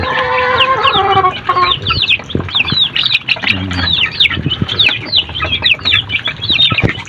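Rhode Island Red chickens clucking steadily and close, with overlapping bird calls and squawks and a brief lower cackle partway through, no talk.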